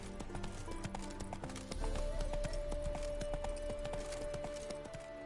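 Hoofbeats of Geralt's horse Roach in The Witcher 3, a steady clip-clop of hooves on the ground with a sustained tone from the game underneath, close and fairly quiet.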